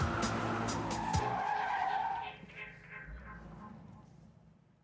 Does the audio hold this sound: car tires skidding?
yes